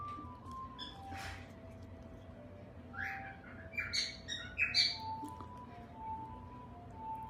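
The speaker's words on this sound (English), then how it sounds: "It's a cockatiel, my man." A pet cockatiel lets out a quick run of sharp chirps and whistles in the middle of the stretch, fairly soft against a low room hum, with quieter peeps before and after.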